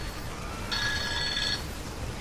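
A phone rings with one bright electronic trill lasting under a second, moderately loud over a low steady background hum.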